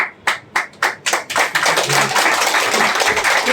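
An audience at a direct-selling marketing program in Butwal, Nepal claps: a few slow, sharp, rhythmic claps that quickly build into dense, continuous applause close by.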